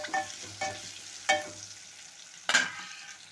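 Onions fry in a pan with a light sizzle while a spoon stirs them, giving four distinct scraping strokes at uneven intervals over a quiet, close background.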